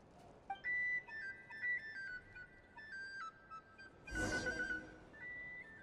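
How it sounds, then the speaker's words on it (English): A whistled tune in the video game Genshin Impact: a steady run of short, clear melodic notes that rise and fall, broken midway by a brief noisy burst. No one speaks. "If I hear that whistling one more time..."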